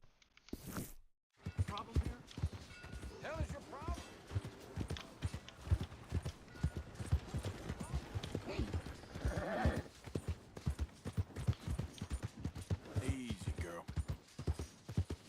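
Horse hooves clip-clop steadily in Red Dead Redemption 2, a dense, continuous rhythmic trot that follows a brief gap near the start, with a voice talking intermittently over it.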